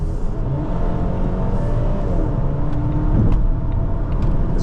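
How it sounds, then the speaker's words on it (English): A 2026 Volvo XC40 B5 AWD mild hybrid accelerating from inside the cabin, a steady engine drone and road rumble building smoothly over several seconds, with no talk. "As you can see, acceleration is not a problem here. Very quick, gets up to speed in a blink."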